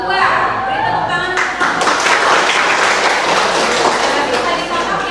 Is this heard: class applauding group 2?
yes